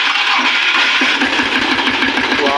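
A tractor engine with a newly fitted battery cranks and runs, giving a loud, steady mechanical chugging with rapid rhythmic knocking throughout and no pauses.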